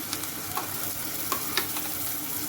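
Ground masala paste sizzling in a hot pan for a Marathi ridge gourd amti, a steady dense frying hiss broken by a few soft stirring scrapes, close and continuous with no voices.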